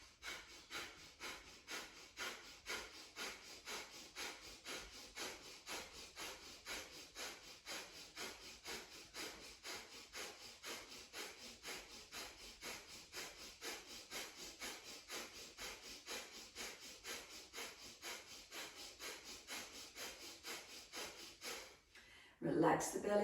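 Kapalabhati yoga breathing in a flow class: a long run of quick, forceful nasal exhales in an even, rapid rhythm, close and sharp, ending with a louder breath at the very end.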